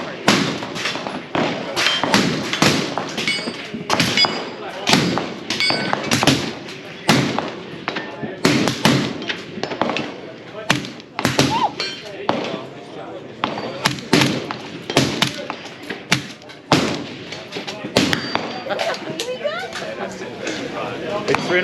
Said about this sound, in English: It's 300 blackout sub-suppressed. It's a dream to shoot.